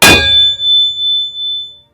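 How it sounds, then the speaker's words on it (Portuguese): A spear rings out with a single bright metallic clang as it deflects a blow, the strike loud and close, then a sustained shimmering ring that slowly fades, with no voices. "Kaladin desviou o golpe, a lança na sua mão vibrando com um plangente de Ingui"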